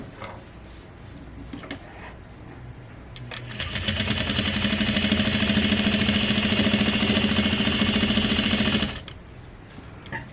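A Juki DDL-8700 industrial sewing machine runs a continuous stitching burst of about five seconds, a fast, even mechanical whir with a rapid ticking rhythm. Quieter handling and clicks come before and after.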